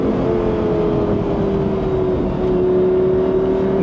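A Lamborghini Gallardo Spider's engine drones loudly and steadily from inside the car, a sustained growl that drifts slightly in pitch with a faint whine on top.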